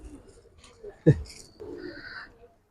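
Giribaj pigeons coo softly nearby, with a short sharp knock in the middle and a brief vocal sound amid quiet background noise.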